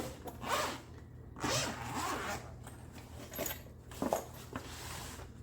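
The zipper on the hard-shell case of a UTRAI 6000A jump starter and air compressor is pulled open in several quick, rasping strokes with short pauses between them. It is close and fairly quiet, and no one speaks.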